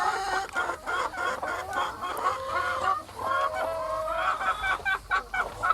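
Several laying hens cluck and chatter continuously inside a village chicken coop, overlapping calls at moderate volume with no one talking.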